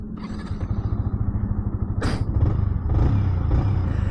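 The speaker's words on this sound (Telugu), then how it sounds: "Here the exhaust note." A 2024 Yamaha R15 M motorcycle idles just after start-up with a close, rapid, throbbing exhaust beat, a sharp burst midway, then a slightly louder, steadier rumble.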